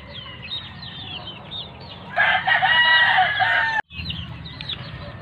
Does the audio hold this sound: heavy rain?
no